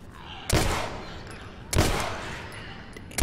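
Gunfire in The Last of Us video game: three sharp, loud shots spaced about a second apart, each with a decaying echo tail, with quiet stretches between them.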